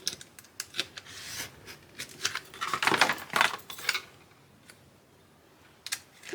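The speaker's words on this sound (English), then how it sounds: "I'm just going to keep going over it until I know for sure that my foam board is cut all the way through" A craft knife is drawn repeatedly through foam board, making a series of scratchy, rasping cutting strokes close up, with short gaps between passes and no talking.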